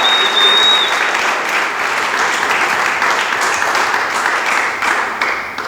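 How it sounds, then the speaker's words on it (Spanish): A church congregation claps in praise during a worship service, a loud, dense and continuous round of applause that fades slightly toward the end. "dele palmas a Cristo en la gloria."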